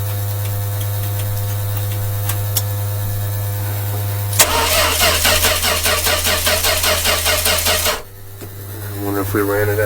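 A 1966 Dodge A100 van's old engine cold-starts after a steady electrical hum, catching abruptly and running loud and rough for a few seconds before stalling; the hum returns with some faint sounds near the end.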